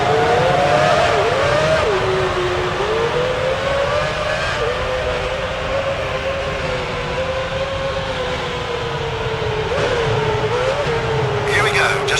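Formula One cars pulling away on the parade lap in Formula One Championship Edition at Melbourne, a steady droning engine whine rising and falling, loud and continuous with a faint higher tone near the end.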